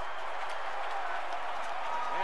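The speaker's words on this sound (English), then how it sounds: "this crowd goes crazy" Stadium crowd in MLB 15 The Show roaring after a game-ending play, a steady wash of cheering and noise throughout, with a commentator's voice talking over it.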